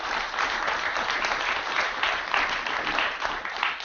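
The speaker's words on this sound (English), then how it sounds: "So please give yourself a round of applause for that." An audience in a room gives a sustained round of applause, dense and even clapping that holds at a steady loudness throughout.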